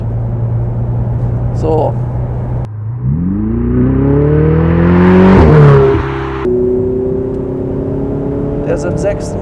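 A Ferrari 488 Spider 70th Anniversary turbo accelerates from inside the cabin, its engine note climbing steadily through gears to a loud peak, then settling to a steady cruise, with someone speaking briefly near the start and end.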